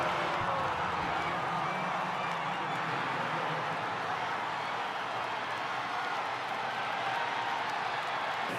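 Stadium crowd applauding and cheering at an NFL game in New York, Eagles playing Washington: a dense, steady wash of claps and crowd roar that holds for the whole stretch without a break.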